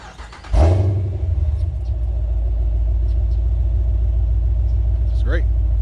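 A 2018 Dodge Durango R/T engine starts warm with a loud burst, then settles into a steady, deep idle rumble that continues close up to the end.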